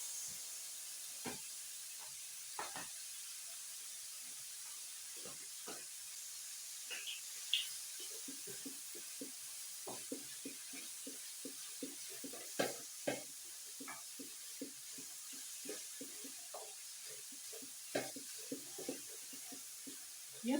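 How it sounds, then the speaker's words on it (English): Cabbage and carrots sizzling in a hot pan as their juices deglaze it, a steady hiss with scattered stirring clicks and scrapes, close and moderately loud, no talking. "You see, it's deglazing the pan very, very well."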